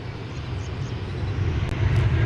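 American Airlines Airbus A321 jet at DFW Airport at daybreak, a steady broadband engine roar slowly building in loudness, heard alone from a distance.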